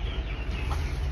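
A broody hen sitting on a clutch of nine eggs clucks softly and steadily, close by, over a low continuous rustle.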